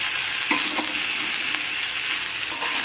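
Spinach and mixed vegetables stir-fry in a hot pan, giving a close, continuous sizzle broken by a few quick scraping strokes of the spatula.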